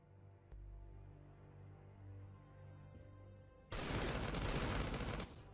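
A base turret in the Last Day on Earth survival game opens fire in one loud, dense burst of rapid shots lasting about a second and a half, following a quieter stretch of low game hum.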